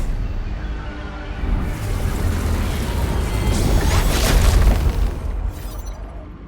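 A large explosion in the video game Arknights: Endfield as an anchor structure is destroyed: a loud, sustained, rumbling roar that builds, peaks near the end, then tapers off, with no voices.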